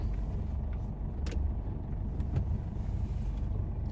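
A Ford Endeavour SUV drives home along the road, its steady engine and tyre rumble filling the cabin evenly throughout, with no voices.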